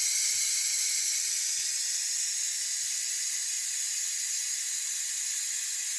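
Steam venting from a Ninja Foodi pressure cooker valve turned from seal to vent, a steady loud hiss that continues without break, with no voice present.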